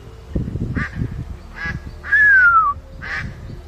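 Ducks quack close by in a few loud, nasal calls spaced about a second apart, with one longer drawn-out honk in the middle.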